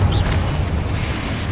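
A Confringo blasting curse detonates in Hogwarts Legacy on PS5, a loud low boom that rolls into a sustained rumbling roar for the whole moment, with no voices over it.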